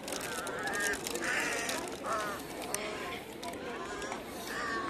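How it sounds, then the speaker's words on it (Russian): Ducks quack on a pond at a Moscow zoo, repeated honking calls over steady background chatter, with people talking nearby throughout. "Утка."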